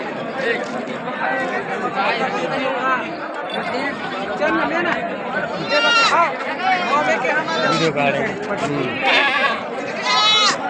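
Many goats bleating repeatedly at a busy livestock market, loud and near, over constant crowd chatter and voices talking throughout.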